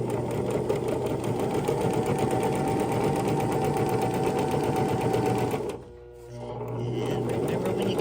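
A sewing machine stitches through a purse, running steadily and loudly with a fast even needle rhythm for several seconds, then briefly pausing and restarting at a thicker section.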